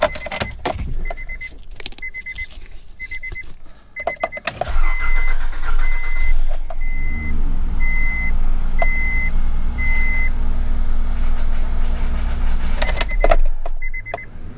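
An Acura car engine cranks and catches on its first start after reassembly, then settles into a loud, steady idle with a rattle running through it; brief clicks and key jingles come before the engine fires and again as it shuts off.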